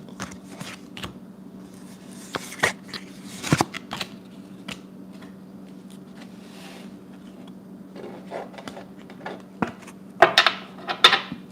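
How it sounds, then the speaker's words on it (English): Oracle cards are shuffled close by in repeated riffling bursts with crisp slaps, over a steady low hum, the activity picking up toward the end. "I said I'm going to get an oracle card."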